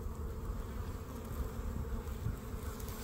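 Honeybees buzz around a small hive that survived the winter, where fighting and possible robbing are going on: a dense, steady, close swarm drone that fills the whole stretch without voices.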